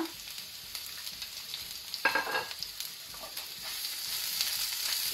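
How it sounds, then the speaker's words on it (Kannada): Onion, green chili and curry leaves frying in oil, a soft steady sizzle with scattered stirring clicks and a brief louder scrape near the middle; no voices. "ಅದರ ಜೊತೆಗೇನೆ ಹಸಿಮೆಣಸು ಸೇರಿಸಿ ಸ್ವಲ್ಪ ಫ್ರೈ ಮಾಡುವ"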